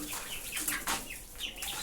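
Hens cluck softly in a farmyard where a brood of newly hatched chicks feeds on scattered grain, with short broken calls and faint rustling, close by and fairly quiet.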